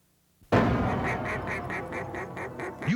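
Ducks quacking loudly and close, a rapid rhythmic run of repeated quacks that starts abruptly after a moment of silence and continues steadily to the end.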